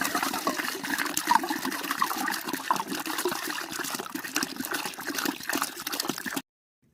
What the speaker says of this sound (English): I've got a gallon of pineapple juice that I'm going to add